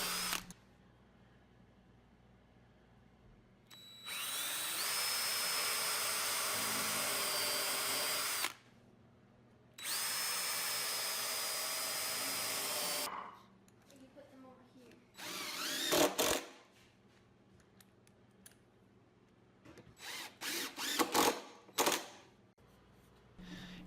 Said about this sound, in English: Next, I will be attaching the front to that 4x4 directly with some 3-inch deck screws.